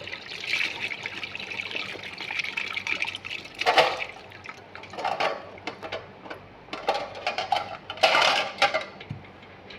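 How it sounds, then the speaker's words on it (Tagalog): Harvested dates are washed in water, with splashing, trickling and sloshing coming in uneven bursts, close by, and a few louder surges of water and handling. "Hugasan na natin ang ating tamodets. Ang ating dets, hugasan na natin guys."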